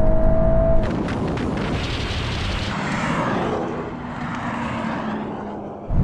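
A VW Golf R and a Honda Civic Type R drag racing: a loud, sustained roar of engines at full throttle, rising and then fading slightly as the cars pull away, with a rushing, rumbling tone throughout.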